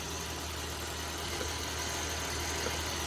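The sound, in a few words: Dodge Ram 1500 engine idling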